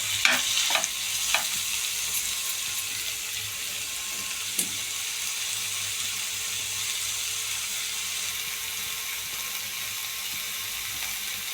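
Fenugreek leaves and tomato frying together in a pan, a steady close sizzle with a few stirring scrapes and clinks near the start, no talking.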